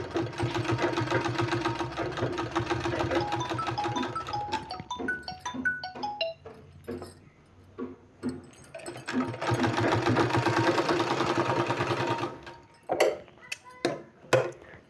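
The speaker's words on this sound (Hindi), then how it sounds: "बिल्कुल आराम से सिलाई लगाना है।" A sewing machine stitches a sleeve for a beaded sleeve design, running in long steady bursts with a short stop-start stretch in the middle and a few brief stops near the end.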